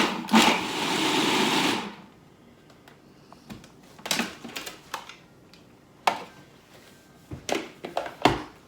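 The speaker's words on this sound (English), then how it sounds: "we're just going to blend this until it becomes a very, very tiny particles." A blender grinding dry herbs and pepper gives one loud, whirring burst of nearly two seconds. It is followed by quieter, scattered clicks and short pulses close by, with no talk.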